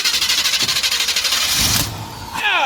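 A ZZ4 350 engine in a 1985 C10 pickup with carburetor issues cranks in a rapid rhythmic churn, briefly falters, then catches and fires up, loud and close.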